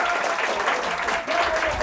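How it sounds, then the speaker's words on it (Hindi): Audience at a farewell function for an IAS coaching academy in Delhi bursts into loud, dense applause for a guest, steady and sustained throughout. "तो एक बार सूरज भैया के लिए जोरदार तालियां।"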